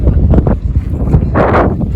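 Wind buffets the microphone in rough, loud gusts at Lake Mohave, with a stronger rushing surge near the end and no talking.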